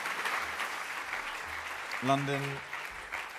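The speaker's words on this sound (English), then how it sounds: "Very big round of applause again, please." Audience at a tech conference claps in a steady, moderate wash of applause, with a brief spoken word breaking through partway.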